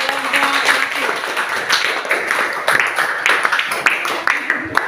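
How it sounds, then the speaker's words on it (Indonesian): Students in an Indonesian classroom clap for a presenting group, a dense, steady patter of hands throughout with some talk and voices mixed in underneath. "Oke, tepuk tangan untuk kelompok."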